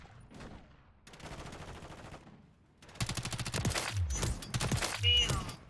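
Gunfire in Call of Duty: Modern Warfare III on a small kill-focused map, starting as scattered shots and turning into loud rapid bursts of automatic fire in the second half, with a player talking over it.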